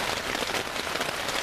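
Steady rain patters across a campsite on a rainy camping day, a dense, even hiss of drops on surfaces filling the short stretch with no voices.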